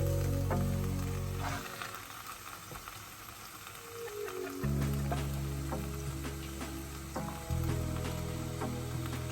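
A pot of egusi soup with palm oil and bitter leaf sizzles and bubbles while it cooks, a continuous close frying hiss with a low rumbling hum that shifts level several times.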